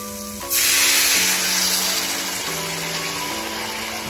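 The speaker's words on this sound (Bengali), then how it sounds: "এখন এর মধ্যে দিয়ে দেব জল" Water goes into hot, sizzling spice masala in a pan for a fish curry, giving a sudden loud hiss and steam burst that slowly eases into a steady simmering sizzle, with a faint hum behind it.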